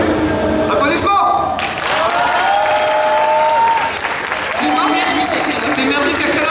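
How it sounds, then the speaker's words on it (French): At the Mangame Show manga convention in Fréjus, a live stage show crowd applauds with sustained, dense clapping and cheering, loud and filling the hall, while voices talk over it. "Applaudissements."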